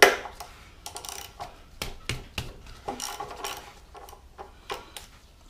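A socket ratchet clicks in short, irregular bursts while bolts are slackened on a Suzuki Boulevard M109R motorcycle, crisp and close with brief pauses between strokes.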